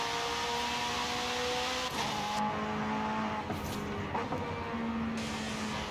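A flat-plane crank V8 in a McLaren Sabre in Forza Horizon 5 revs high and smooth, with pitch rising and dropping through quick gear shifts and a brief tire squeal, loud and alone.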